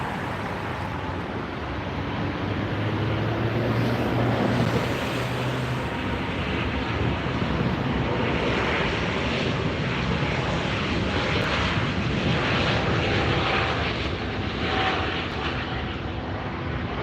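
A Finnair airliner departing LAX roars past in a continuous, loud broadband jet rumble that swells and holds for the whole stretch, with no talk over it.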